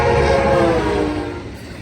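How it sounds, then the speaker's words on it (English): An Amtrak Capital Corridor train led by an F59PHI locomotive rolls past on Williams Street in San Leandro, California, a loud, close, steady rumble with a sustained horn-like tone that gradually fades. "It's an F59 PHI leading off on the 529 Capital Corridor train."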